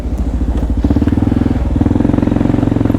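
A second-generation Kawasaki KLR650 single-cylinder engine fitted with a new LEXX exhaust thumps close by in a steady, rapid pulse, rising in pace as the throttle opens.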